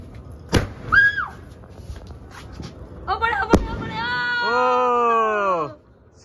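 Fireworks set off close by: two sharp bangs, then whistling tones that rise and fall as they fly, with people talking around them.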